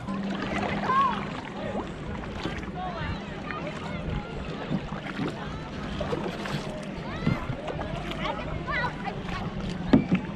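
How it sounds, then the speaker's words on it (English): Paddles dip and water sloshes around a kayak moving steadily along on Lake Tahoe, with people talking over the gentle splashing and some wind. "Rock the boat, don't rock the boat, Spence Hill, rock the boat"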